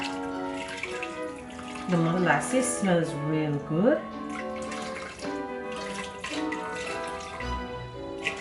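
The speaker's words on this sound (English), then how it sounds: "And then I'm gonna go in with water. And with going in with the water, we just want to cover the beans." Water pouring into a pot to cover beans in a home kitchen, a steady running flow throughout while a person talks over it.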